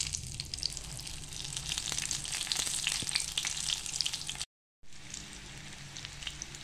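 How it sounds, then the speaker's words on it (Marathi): Paneer pakoras deep-fry in hot oil with a dense, crackling bubble and sizzle heard up close. It cuts out briefly and then resumes, with no one speaking. "बघा किती छान खरपूस तळले जात आहेत."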